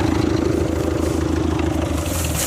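A Ferguson TEF20 diesel tractor engine runs with a loud, close, steady chugging rumble and rapid rhythmic knock, clattering evenly throughout.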